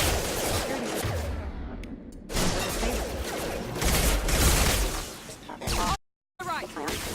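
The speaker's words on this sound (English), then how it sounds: "Firing. Shoot them before they take out your shields." Gunfire in Mass Effect 2 combat, with dense, continuous shots and impacts packed into a loud, busy mix that sits under and alongside voices throughout.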